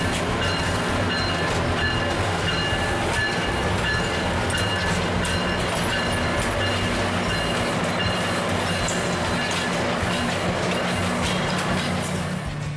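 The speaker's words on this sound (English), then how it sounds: "4505 is seen departing Hoboken Terminal on July 10, 2012, with a consist of single-level Comet 5 cars" An NJ Transit dual-mode locomotive hauling single-level Comet 5 cars departs Hoboken Terminal, a loud, continuous rumble of engine and rolling wheels with rail clatter and faint squeal throughout.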